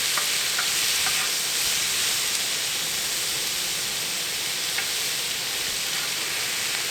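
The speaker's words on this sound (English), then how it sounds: "So I'm going to brown this. So my goal is to brown this meat." Bear meat browns on a Tembo Tusk Skottle grill with a steady, close, bright sizzle and hiss, a few faint scrapes rising above the constant frying.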